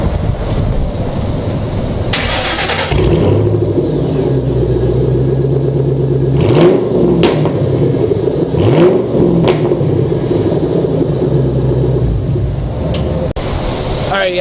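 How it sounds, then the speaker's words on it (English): Deep rumbling Ford Mustang V8 engine running nearby with a few louder throttle blips, steady and heavy throughout. "I love the fact that it's a V8 and it can be loud as hell"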